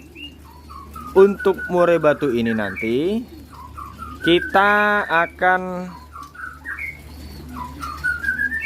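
A female white-rumped shama (murai batu) in a breeding cage gives repeated whistled calls and chirps, fairly close, with someone talking between and over the calls.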